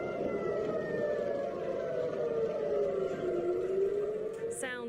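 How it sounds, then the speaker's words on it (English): Air raid sirens wailing across Israel, a loud sustained tone that slowly rises and falls for several seconds, with a brief burst of another sound at the very end. "Sounds of sirens in Israel."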